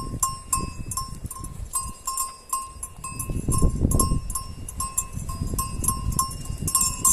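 Goats bleating and shuffling nearby on a Portuguese farm, eating mallow, with a clanking bell ringing repeatedly through the scene, rustling and movement underneath.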